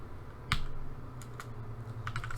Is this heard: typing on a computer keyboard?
yes